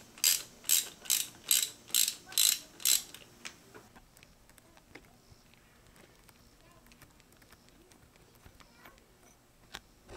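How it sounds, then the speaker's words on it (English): A hand ratchet loosens a spark plug on an Evinrude ETEC 150 outboard engine, seven sharp, evenly spaced clicking bursts up close, followed by quieter faint tool handling. "Now we're going to remove the spark plug from cylinder number 3."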